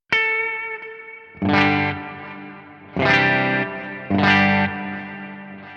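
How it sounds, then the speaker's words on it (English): An electric guitar through a drive pedal plays a single note, then three strummed chords that ring out, each trailing off in a wash of delay and reverb. "a second scene where I turn on some delay and reverb"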